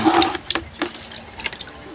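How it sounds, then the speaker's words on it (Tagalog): Water is poured in short splashing bursts into a shallow water pump to prime it, with a few clinks and gurgles close by. "So maglagay muna tayo ng tubig."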